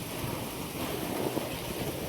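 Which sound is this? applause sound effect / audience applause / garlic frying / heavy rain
heavy rain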